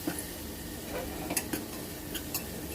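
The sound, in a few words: coriander added to dal tempering, stirring and sizzling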